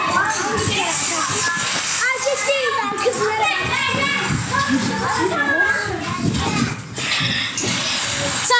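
Children play at a playground, a lively mix of shouting and chattering young voices near and far, continuous and bustling throughout.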